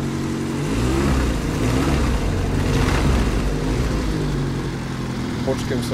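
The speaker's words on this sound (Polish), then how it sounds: "Damy mu gazu." A petrol engine on a homemade cogeneration generator set revs up under throttle, a steady loud mid-pitched drone with rising and falling pitch sweeps, close by with no voices over it.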